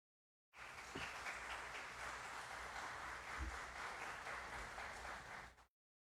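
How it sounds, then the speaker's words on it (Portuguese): An audience at a municipal council ceremony in Franca, Brazil, gives a round of applause for the chamber president, a steady, dense clapping that starts abruptly and holds evenly for about five seconds before cutting off. "Por favor, uma salva de palmas."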